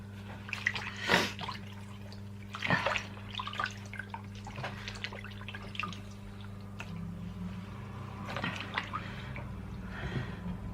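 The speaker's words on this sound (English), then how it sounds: "I've got a washcloth and a bowl of water. I'm just going to wash my face." Water splashes and drips as a washcloth is wetted in a bowl and used to wash a face, soft sloshing bursts recurring every couple of seconds over a steady low hum, close and fairly quiet.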